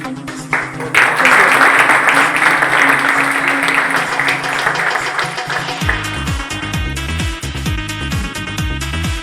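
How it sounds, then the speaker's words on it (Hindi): Audience at a retirement celebration claps loudly and steadily, with music starting beneath the applause partway through. "सभी खड़े होकर एक बार इनके लिए, सबके लिए तालियां बजाएं।"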